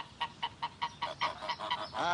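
Geese honk in a medieval-style orchard, about nine evenly spaced, nasal calls in quick succession, close and clear, with the last few running together into a louder, busier cackle.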